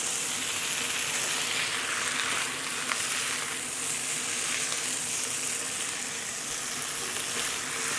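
Kofta frying in a pan with onions as it is flipped, a steady, dense sizzle throughout with a faint stirring scrape, close and even, no talk.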